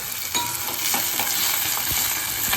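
Shallots, garlic and curry leaves fry in a pan with a steady broadband sizzle, broken by several soft stirring scrapes spread across the clip, with no voices.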